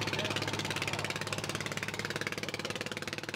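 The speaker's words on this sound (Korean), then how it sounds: "통통배를 타고 뱃길을 나선 건 하이난의 숨겨진 명소 수상가옥을 보기 위해서다." A small motorboat engine chugs in a fast, even pulse, close and steady, like a put-put boat heading out on the water in Hainan, with no one speaking.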